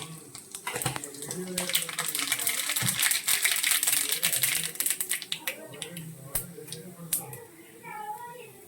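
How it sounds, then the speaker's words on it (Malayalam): Mustard seeds dropped into hot oil for a prawn thoran, a close, busy sizzle with sharp popping and crackling bursts throughout, louder in the middle and thinning toward the end. "എണ്ണ ചൂടായിട്ടുണ്ട്. അപ്പോൾ നമുക്ക് അതിലേക്ക് കടുക് ഇട്ട് കൊടുക്കാം."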